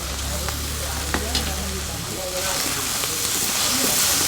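Onions sizzle and fry in a pan over a fire in a Sri Lankan village kitchen, with a steady loud hiss that swells toward the end and faint clinks and a low rumble underneath.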